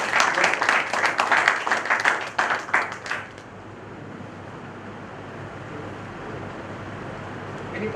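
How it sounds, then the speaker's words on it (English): A conference hall audience claps for the event organizers in a short burst of fairly loud applause that fades out after about three seconds, leaving quiet room noise. "You can clap for"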